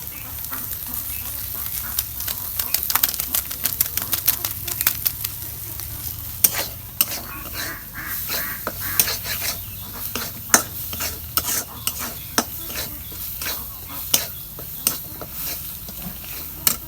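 Egg fries in a pan with noodle seasoning while a spatula stirs and scrapes, giving a steady sizzle broken by repeated close, sharp scraping strokes.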